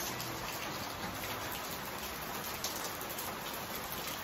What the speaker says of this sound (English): Real rain.